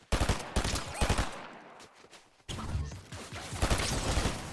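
Rapid bursts of gunfire from Fortnite crackle in short clusters, with a brief lull midway before another volley of quick, loud shots follows.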